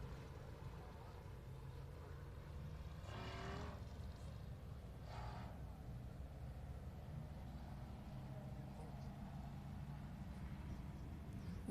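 Stock cars race around the track at Rocket Raceway Park. Engines drone steadily in the distance, and two cars sweep past more loudly in brief whooshes. A commentator's voice is faintly mixed into the track noise.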